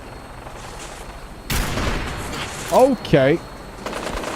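A sniper rifle fires once in a combat video game, a sharp, loud blast that trails into a rumbling tail, followed by a voice speaking briefly over it.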